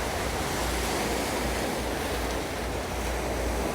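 Sea waves at Playa Blanca, Lanzarote, make a steady, loud wash of surf on a seafront wall, a continuous broad roar with some wind noise and no talking.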